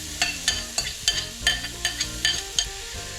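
Pork frying in a pan with scallions and garlic for Vietnamese braised pork, a steady close sizzle broken by about a dozen sharp scraping and clinking strokes of a utensil stirring the pan.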